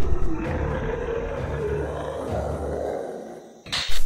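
Zombies in a video game roar and growl amid a dense, rumbling game soundscape, loud and continuous, ending in a sharp burst.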